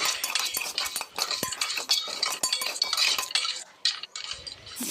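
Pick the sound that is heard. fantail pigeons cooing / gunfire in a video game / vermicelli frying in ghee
vermicelli frying in ghee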